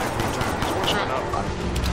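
Steady automatic gunfire in the Shadowrun FPS game rattles continuously during a competitive match, loud and dense, while a player talks over it.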